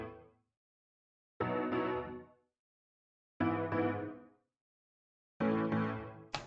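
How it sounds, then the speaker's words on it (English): A synth plays the piano part of a pop song in a new rhythm. Sustained, full chords ring out and stop, separated by clean silences and repeating about every two seconds. "This synth is now playing the piano part, and it's a different rhythm now."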